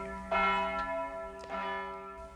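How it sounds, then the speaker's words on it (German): Bells of a nearby church ring out, two resonant strikes with long humming tones that linger between them, clear and moderately loud with no voices. "ich hörte die Glocken der nahen Kirche läuten"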